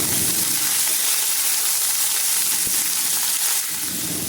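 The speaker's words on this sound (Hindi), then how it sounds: "इसको 1 मिनट हमने फुल फ्लेम पे ही भूनना है" Shredded cabbage, carrot and peas stir-fry over a full flame, a loud, constant hiss and sizzle with a brief clack partway through, heard close and without talk.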